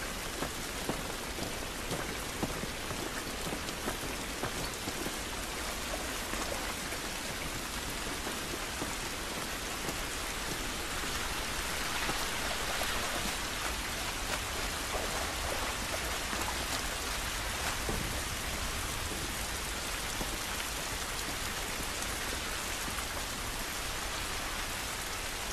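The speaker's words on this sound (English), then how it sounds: "This rain ain't gonna do us any good." Steady rain pours outdoors in the video game The Last of Us, a dense, continuous hiss of drops on surfaces with a faint low rumble beneath, constant and fairly loud throughout with no voices.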